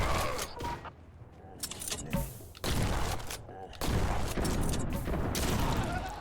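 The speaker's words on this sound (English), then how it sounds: "I just took that grenade right to the face." Grenade blast in the shooter game Forgive Me Father 2, a loud booming explosion amid rapid bursts of gunfire and clattering mechanisms, several sharp impacts scattered through the stretch with a voice faintly underneath.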